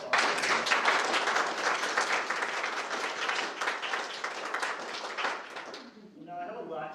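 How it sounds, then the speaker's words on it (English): Crowd of children and families at a student-of-the-month presentation gives a round of applause, dense clapping that swells early and gradually thins out, ending as a voice begins speaking. "give you a round of applause"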